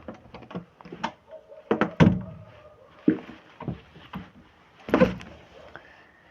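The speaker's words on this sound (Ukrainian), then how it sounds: "Просто двері заклинило." A jammed door is forced open with several hard thunks and scraping knocks in irregular bursts, close and loud against a quiet room.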